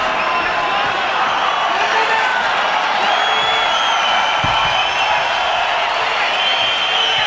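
An arena crowd at a UFC fight between Jim Miller and his opponent keeps up a sustained roar of cheering and applause, a dense, steady wall of noise with commentary running over it.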